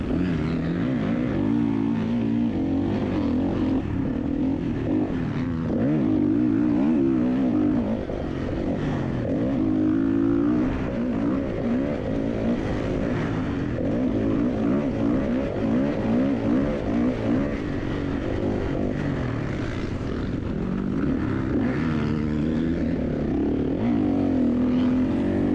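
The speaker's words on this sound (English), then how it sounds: "Joe's riding one of the cleanest, I think it's a 23 Kawasaki KX450" A 2023 Kawasaki KX450 motocross bike racing on a desert dirt track during a winter series round, its engine droning loud and close with constant revving rises and falls through the whole stretch.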